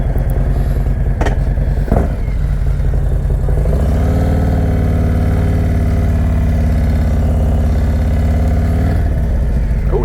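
A 2018 custom Harley-Davidson Road King Special motorcycle engine runs close by in a steady, loud idle rumble, with a brief bump early on before settling into an even drone.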